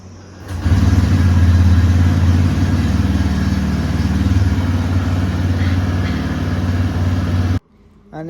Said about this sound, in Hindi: चलिए करते हैं बाइक को कोल्ड स्टार्ट पहले।